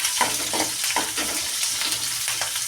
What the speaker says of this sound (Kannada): ಸ್ವಲ್ಪ ಬ್ರೌನ್ ಕಲರ್ ಆಗೋವರೆಗೂ ನಾವು ಇದನ್ನು ಹುರಿಯೋಣ